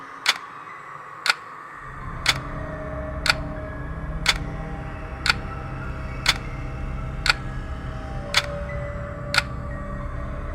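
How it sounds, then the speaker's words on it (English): An antique wall clock ticks loudly and evenly, about once per second, each crisp tick standing out above a low, steady hum that rises in after the first couple of seconds. "Suddenly, the antique clock on the wall started ticking loudly."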